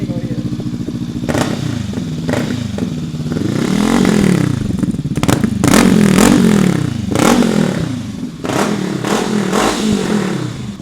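Honda SCL500 motorcycle with a Leo Vince exhaust, baffle removed, heard on a ride: loud, throaty revs rise and fall through repeated gear changes, with wind rush and clattery mechanical noise.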